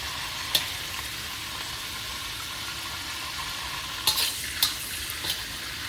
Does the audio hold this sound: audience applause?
no